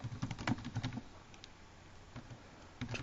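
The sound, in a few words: typing on a computer keyboard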